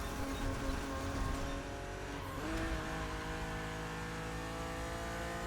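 A BMW Z roadster races against an opponent in The Crew Motorfest, its engine roaring loud and steady while tires squeal briefly in the middle.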